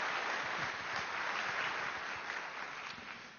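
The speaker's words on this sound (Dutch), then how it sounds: "Graag een applaus." Audience at a Dutch SURF conference session applauding presenters after a talk, a steady, even wash of clapping held throughout the short stretch with no voices over it.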